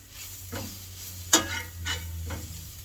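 Gluten-free flour cooking in a pan for smothered pork chops, with a soft sizzle underneath and a few scraping stirs, plus one sharp metallic clink of the utensil against the pan.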